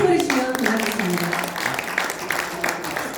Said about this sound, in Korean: 박수 한번 크게 보내주시면 고맙겠습니다.